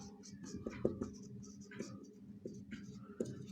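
A pen scratches across paper while a biology assignment is being written, producing quiet, close strokes and small taps in an irregular rhythm, faint and alone.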